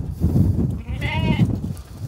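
Hill lambs at a livestock market give a single clear wavering bleat over a busy background of low murmuring voices and shuffling.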